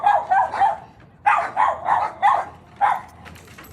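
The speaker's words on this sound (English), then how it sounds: "Barking at the others." A small dog barks at other dogs playing by a dry pool, sharp yappy barks coming in quick bursts of two or three, close and loud.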